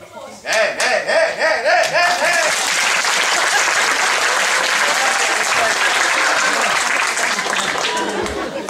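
An audience at a stage play bursts into loud, sustained applause after an actor's line, with some laughter and voices over the clapping in the first seconds before it settles into an even roar.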